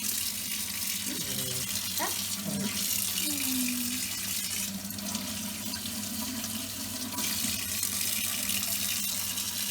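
Tap water runs steadily into a kitchen sink while fresh fish is rinsed clean before baking, a continuous close splashing hiss that persists throughout, with brief tonal squeaks and a faint voice early on.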